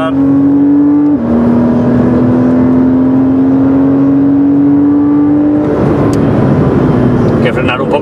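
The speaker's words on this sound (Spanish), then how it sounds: "Salida, no hay que dejarse el pico, hay que acelerar." A Porsche Cayman S PDK accelerating hard on the Portimão circuit, a loud close engine drone climbing in pitch, dropping briefly at a gear change, then pulling on before easing as the next corner nears.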